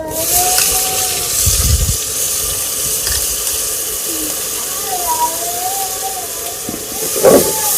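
Onions frying with red chili in a pan for a village salan in a Sindhi village in Pakistan, giving a steady sizzling hiss that runs throughout, with faint voices in the background.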